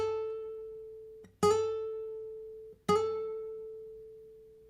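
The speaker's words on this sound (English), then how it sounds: "a grace note is just a very, very quick note that you're going to hit on the way to kind of a target note" A guitar sounds a sustained note, then twice a fast grace note is flicked just before a target note is struck, each attack ringing out clearly and decaying slowly, alone with no talking.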